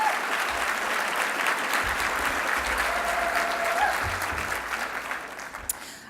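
Steady applause from a luncheon audience at an annual Planned Parenthood fundraising event, a dense patter of clapping that slowly tapers off, with a brief whistle.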